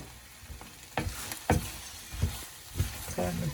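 Roasted coconut being stirred into spicy beef sambal frying in a pan, with several scraping, sizzling stir strokes at irregular intervals over a steady background, close and moderately loud.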